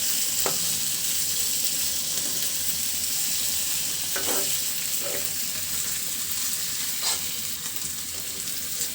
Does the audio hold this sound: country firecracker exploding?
no